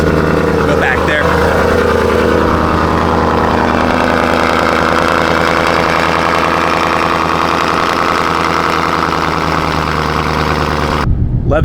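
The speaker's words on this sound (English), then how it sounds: "So this one has a Borla exhaust." A Corvette C6 Z06 V8 with a Borla exhaust idles loudly and steadily nearby in hot sun, a deep rumbling burble that cuts off abruptly at the end, with a voice speaking over it.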